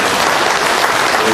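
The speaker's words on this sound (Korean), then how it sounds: "정무 스님, 박수 좀 쳐주세요." Loud, close crowd clapping at a Buddhist service, a continuous burst of applause with no pauses.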